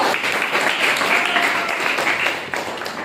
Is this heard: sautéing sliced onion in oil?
no